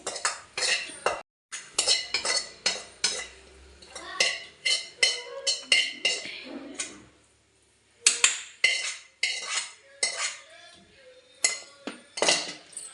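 Okra, onion and tomato chutney is pounded and stirred in a stone mortar, making a close run of repeated hard scraping and clinking strokes in short bursts with brief pauses between them.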